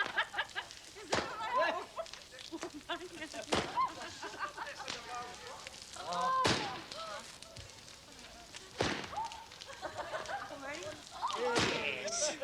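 Fireworks go off in a series of sharp bangs and thuds at irregular intervals outdoors, with people talking and calling out between the bursts.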